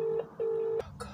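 Touch-tone telephone keypad dialing: two steady DTMF tones, one short and one longer, followed by faint clicks and handling noise, fairly quiet with no voices.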